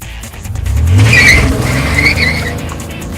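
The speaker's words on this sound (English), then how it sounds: "With that, he peeled out after Manuel's CR-X." A car peels out in pursuit of a Honda CR-X, its tires screeching sharply over a loud engine roar that swells and holds for about three seconds, close and without voices.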